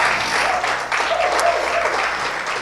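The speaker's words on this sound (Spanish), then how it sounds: "Denle un aplauso a la gente valiente en redes sociales." A church congregation claps together during a Sunday service, a loud sustained round of applause with faint tonal traces of music or voices underneath.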